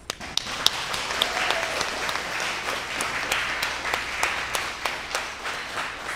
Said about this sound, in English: Grads, take this moment to give a round of applause for the people who have supported you on this path.